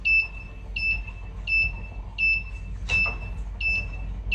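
Buzzer alarm on a microcontroller AC current and voltage monitoring circuit, sounding a repeating series of short, sharp electronic beeps in an even rhythm, close and clear over a low background hum.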